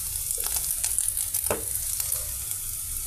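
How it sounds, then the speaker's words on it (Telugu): Three large tomatoes and green chillies fry in oil with a dense, crackling sizzle, broken by short scraping bursts of stirring. The sound stays close and fairly quiet, with no speech. "పెద్ద సైజు టమాటాస్ 3 పచ్చిమిర్చి ఆయిల్తో ఫ్రై చేసామండి"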